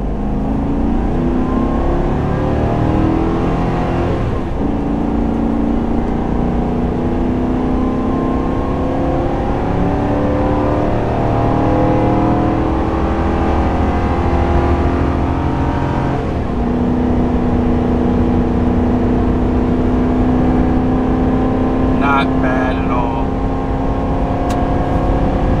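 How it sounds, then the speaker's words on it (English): A 2025-style Chevrolet Silverado 2500HD pickup with a 6.6L gas engine revs hard at wide open throttle and builds speed, its pitch climbing steadily, dropping briefly as it shifts, then rising again; loud and continuous with no talking. "Wide open throttle."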